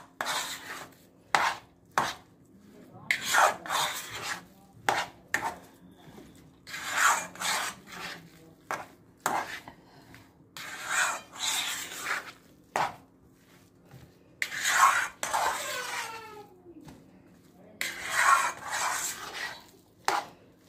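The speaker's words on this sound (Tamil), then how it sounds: "வெங்காயம் போட்டு நல்லா மிக்ஸ் பண்ணுங்க." Potato chapati filling being mixed by hand with onion in a bowl, giving repeated soft squishing and rubbing bursts with short pauses, close and fairly quiet, without talk.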